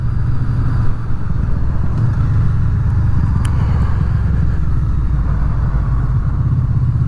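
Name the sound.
Honda VFR800 motorcycle engine and exhaust while riding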